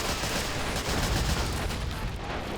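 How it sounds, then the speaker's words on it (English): Grenade blasts and gunfire in Men of War: Assault Squad 2 make a dense, continuous battle din of rapid shots and low thumping explosions with no pause. "they're spamming the shit out of grenades now"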